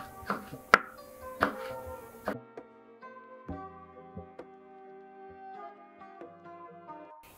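A knife chops hot peppers on a cutting board in a home kitchen, for topping Ali Nazik kebab: a few sharp separate cuts early on, then quieter, with a tone of faint ringing behind them.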